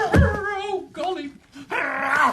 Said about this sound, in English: Get off my bottom, dog!